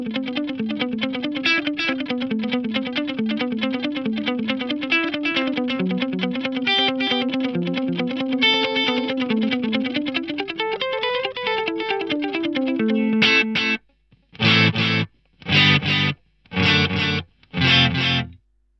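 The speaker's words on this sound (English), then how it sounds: "let's hear it with the delay kicked in" Electric guitar run through a Roland SDE-1000 rack delay set near 300 ms with feedback and modulation off, a busy melodic line trailed by echoes, then a series of short, evenly spaced stabbed chords with gaps between them, played alone.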